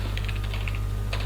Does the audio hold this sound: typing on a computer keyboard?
yes